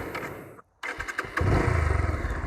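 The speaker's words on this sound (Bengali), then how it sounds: "আমি বাইকটা একটু স্টার্ট দিলে আপনারা জিনিসটা বুঝতে পারবেন।" A motorcycle engine cranks, cuts out for a moment, then catches and settles into a close, loud, pulsing idle.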